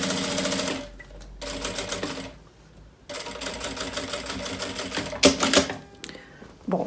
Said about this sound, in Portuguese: Costuro, retrocesso e costuro aqui